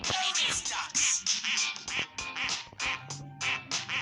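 Rapid, insistent duck quacking in a video game, a continuous flurry of short nasal calls, loud and close, with a faint voice briefly underneath.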